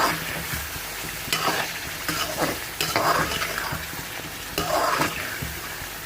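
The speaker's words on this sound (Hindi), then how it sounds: "अब हमने इसकी अच्छी तरह भुनाई थोड़ी सी करनी है, क्योंकि ये ब्लैक पेपर में हम बना रहे हैं।" Chicken karahi with yogurt and black pepper being stirred and fried in a street-style Peshawari charsi wok, with a steady close sizzle broken by repeated scraping stirs.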